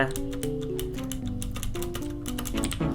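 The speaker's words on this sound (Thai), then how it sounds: "เสียงคีย์บอร์ดดังไม่ต้องตกใจ" A computer keyboard is typed on in rapid, clattering clicks while Blox Fruits is played, the keystrokes sitting over bright tonal game music.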